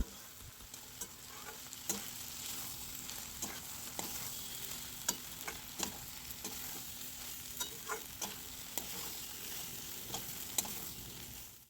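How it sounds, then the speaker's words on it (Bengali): Peas and cubed paneer being stirred together in a hot spiced pan, a steady soft sizzle with repeated scraping clicks of the spoon against the pan throughout, close and alone without voices. "নাড়াচাড়া করে নিয়ে মটর আর পনির ভালোভাবে একসাথে মিশে যাওয়ার পর"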